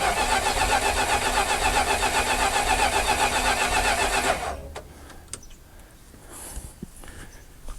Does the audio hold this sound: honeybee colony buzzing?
no